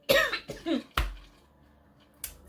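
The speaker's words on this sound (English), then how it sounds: "A bit of a coughing attack." A burst of several harsh coughs close to the mic, followed by a single throat-clearing cough after a short pause.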